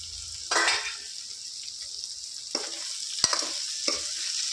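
Okra (bendakaya) curry sizzles and fries in a pan, with several short scraping stirs of a spoon cutting through a steady bright hiss; no voices.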